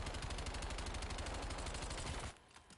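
A rapid-fire video game gun hammers out a fast, regular burst of shots for about two seconds, loud and close, then cuts off abruptly into quiet.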